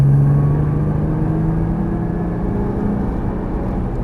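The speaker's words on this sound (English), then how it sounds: "Squeeze that throttle down, nice and firm." Nissan GT-R engine pulling hard under firm throttle on a track, a steady loud low drone with a rising tone at the start, close and continuous with no talk.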